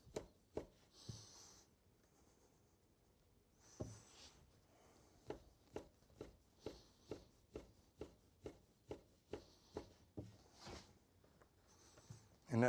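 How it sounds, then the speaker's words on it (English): A knife chops through floured homemade pasta dough on a board, a steady run of about a dozen crisp, close knocks at an even rhythm, with a few scattered taps before the sequence begins and no talking. "running our knife through"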